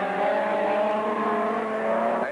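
An ATS Formula 1 race car driven by Manfred Wilkenrock at the German Grand Prix, its engine a loud, steady, high-pitched whine that holds without a break and with no voices over it.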